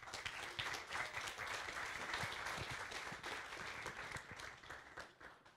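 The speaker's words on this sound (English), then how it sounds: "Applause, please." An audience at an evening tech talk applauds the speaker, producing sustained dense clapping that sounds somewhat distant and quiet and tapers off near the end.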